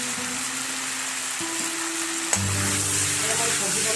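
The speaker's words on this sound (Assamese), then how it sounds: "মই ভাজিব লাগিব।" Food fries in a pan with oil and salt, giving a steady soft sizzle that jumps to a louder, fuller crackle partway through, as if more has been added. There are no voices.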